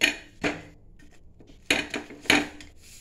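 A lid set down and pressed onto a pan of bread toast gives a few sharp metallic clinks and clatters, close and separated by short quiet gaps.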